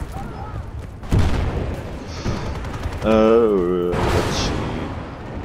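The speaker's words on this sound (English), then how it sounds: "seems like an airstrike" Airstrike explosions in Battlefield Bad Company 2, a sharp blast followed by rumbling bursts and a loud whining, warbling tone, with a voice speaking briefly over the chaos.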